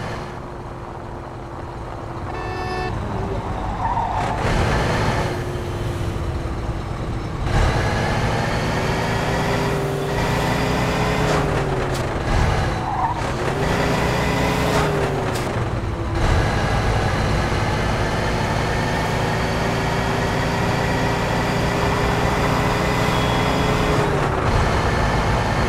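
A heavy truck engine in the video game Mafia II drones steadily at close range, with shifting pitch as it drives, and a brief hiss near the start.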